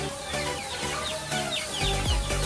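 Chickens, laughing-chicken breed, clucking close by while pecking at bread, a busy overlapping chatter of clucks and short calls with soft pecking sounds beneath.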